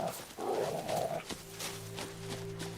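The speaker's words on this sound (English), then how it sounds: "Go on, Mr. Dog." A dog barks and yelps alongside horse sounds in the video game The Witcher 3, a short burst of barking up front followed by steady tonal game ambience.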